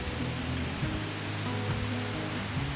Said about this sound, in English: We walked a little bit more and made it to the Grand El Limon waterfall.